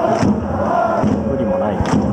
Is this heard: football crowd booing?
yes